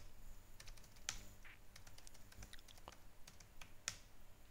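Root password typed on a computer keyboard during a MAUI Linux 17.06 setup in a VMware virtual machine: a quiet run of irregular, close keystroke clicks, with a couple of sharper presses standing out, and no talking.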